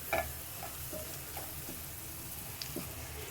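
Ground garam masala, coriander and crushed fennel are stirred into a sizzling pan for mixed vegetable curry, with soft frying hiss broken by a few sharp spoon scrapes and clinks against the pan.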